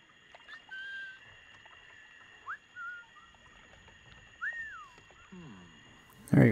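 A player's whistle in Assassin's Creed 4 Black Flag, meant to draw a lantern-carrying guard, sounds as a few short, thin whistled notes over quiet game ambience, with a brief louder burst at the end.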